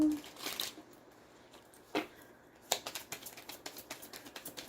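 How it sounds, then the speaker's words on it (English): A deck of love oracle cards is shuffled by hand: faint soft taps and card slides, then a quick run of rapid riffling clicks near the end, quiet and close. "So one more shuffle."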